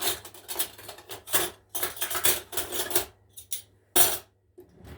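Metal utensils and a spoon clatter and clink against dishes in quick bursts, close by, while making an apple roll, with a sharp bright knock near the end.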